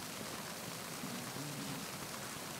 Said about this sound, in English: this rain is better than the rain in Heavy Rain